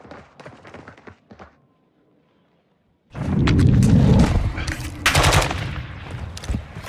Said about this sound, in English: Are you really gonna shoot me again?